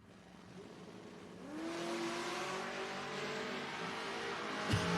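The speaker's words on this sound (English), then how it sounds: "You hear him on the in and out of the throttle" A door-class drag race car rumbles at the line, then its engine note climbs and wavers as the driver goes in and out of the throttle, loud and sustained without talk.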